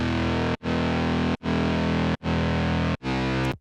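Future bass synth bass patch raised an octave sounds four sustained, gritty distorted chords with short gaps between, loud and close, then a fifth shorter chord at the end, no voices.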